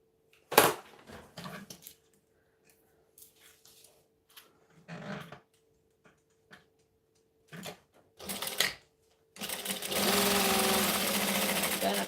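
A home sewing machine stitching fabric in several short bursts of rapid whirring separated by pauses, then one longer steady run of stitching, heard up close.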